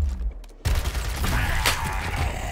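Gunfire in the video game Gears Tactics: a sudden loud burst of rapid shots erupts after a quiet moment and keeps rumbling and crackling in a dense, noisy barrage.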